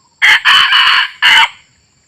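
A rooster of the kokok ngorok type crows close and loud in three rough, hoarse bursts, the middle one longest, with a short quiet tail after the last.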